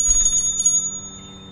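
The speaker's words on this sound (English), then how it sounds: "Can I hit the bell?" A hotel front desk bell in a Miami hotel simulator video game rings with a few quick bright dings, then a clear metallic tone decays alone.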